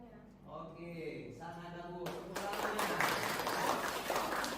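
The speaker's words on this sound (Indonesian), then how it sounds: "Oke, sangat bagus. Tepuk tangannya." A person speaks briefly in a teaching session, then a group breaks into lively clapping that continues steadily for the remaining couple of seconds, fairly close and moderately loud.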